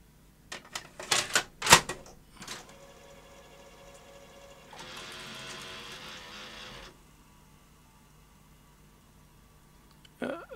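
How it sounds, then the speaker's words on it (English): A tape machine's mechanism engaging to play a tape on a machine with a slightly sticky rear idler: a burst of loud mechanical clunks and clicks, then a steady whirring run for a couple of seconds, and a final clunk. "So let's try playing a tape."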